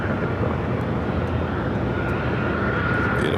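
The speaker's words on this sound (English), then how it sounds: "Beautiful takeoff." A large jet airliner takes off at Los Angeles International Airport, its engines producing a loud, steady, broadband roar that holds at a constant level for the whole stretch, with no talk over it.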